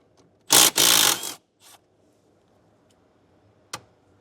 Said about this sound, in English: We just need an 8mm socket to Remove these 2 screws.